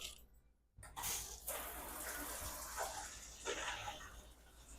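Water runs steadily from a shower in a 2024 Forest River Wildwood Grand Lodge 44VIEW destination trailer, a close hissing spray that starts abruptly after a brief silence and continues evenly.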